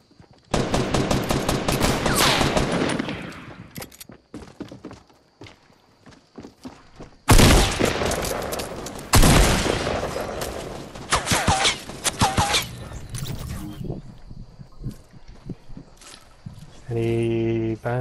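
Rapid automatic gunfire from the Fortnite video game, loud and dense, arriving in two long volleys of overlapping shots with scattered thuds between them.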